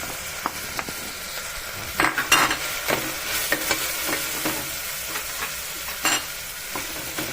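Finely chopped onions sizzle and fry in a pan for a cauliflower stew, with a steady close crackle broken by several sharp scraping stirs, no voices present.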